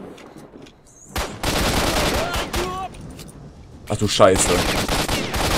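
Gunfire in Stalker: Shadow of Chernobyl, with a pistol in use: sharp bursts of rapid shots in two loud clusters separated by a quieter gap, while someone talks and exclaims over them.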